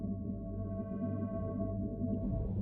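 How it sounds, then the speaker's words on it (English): Minecraft beacon ambient sound from a video game: a steady, sci-fi reactor-like drone with layered sustained tones and a low pulsing throb, holding at an even level throughout with no talk. "They added a new sound to the beacon. It kind of sounds like some kind of sci-fi reactor."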